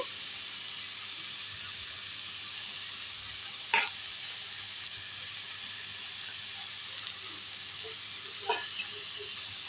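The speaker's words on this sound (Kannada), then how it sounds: "ಇದನ್ನು ನೀಟಾಗಿ ಮಿಕ್ಸ್ ಮಾಡ್ಕೊಳ್ಳೋಣ ಸ್ವಲ್ಪ ಎಣ್ಣೆಯಲ್ಲಿ ಫ್ರೈ ಆಗಬೇಕಿದು" Grated carrot mixed and frying in a little oil for bakery-style bread toast, a steady close sizzle with occasional faint clinks and scrapes of stirring.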